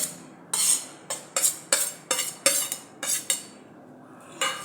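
Spoon scraping and clinking against a bowl while finely chopped onion, tomato and green chilli are mixed together, a series of about nine sharp close strokes in an uneven rhythm, with no talking.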